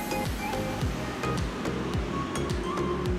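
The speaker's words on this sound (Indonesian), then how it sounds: "putar atau goyang-goyangkan pignometer sampai tidak ada gelembung udara" Water and sand shaken inside a glass pycnometer to release air bubbles, giving a continuous sloshing, gurgling wash with faint glassy clinks, steady and moderately quiet with no speech.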